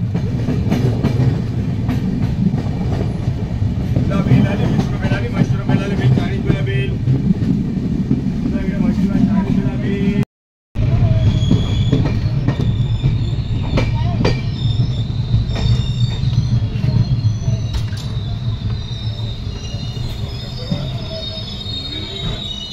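A passenger train on the Konkan railway rolls on after pulling out of Karanjadi station, wheels squealing over a steady rumble and clatter, loud and close from inside the coach, with a brief dropout midway and voices faintly beneath.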